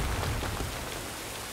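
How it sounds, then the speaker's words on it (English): Steady rain hiss with scattered patter of drops, fairly soft and continuous, no voices, in the video game Star Wars Jedi: Fallen Order on the planet Zeffo. "It's raining a lot."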